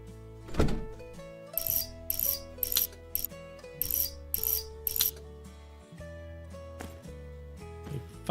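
A ratchet wrench clicks in quick bursts during a cheap car repair, running through several rapid cranking runs with short pauses between them, close and crisp over a low background hum.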